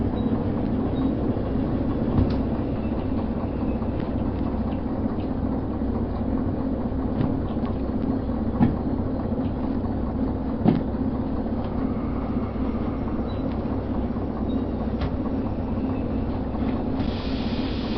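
A locomotive in the railway game Derail Valley rolls along with a continuous low rumble and hiss, broken by occasional faint clanks and knocks from the wheels and couplings.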